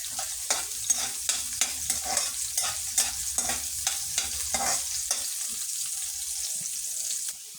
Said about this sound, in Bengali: রোস্টের জন্য আমি পেঁয়াজটা ভাজছি।